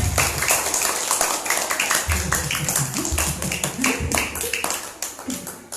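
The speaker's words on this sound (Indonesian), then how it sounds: "Tepuk tangan" Students at an Islamic boarding school clap their hands together in a loud, close burst of sharp, fairly rhythmic claps that carries on throughout, fading slightly near the end.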